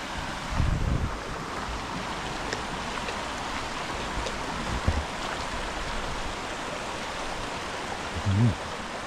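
River rapids in Ulvik, Norway rush over rocks in a steady broadband roar, with gusty wind buffeting the microphone and a few low thumps breaking through.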